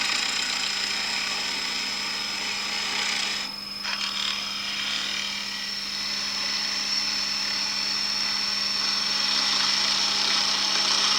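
A boxwood blank being roughed down on a wood lathe, a continuous high whirring hum with the steady scrape of a cutting tool, briefly dipping before settling back to an even drone.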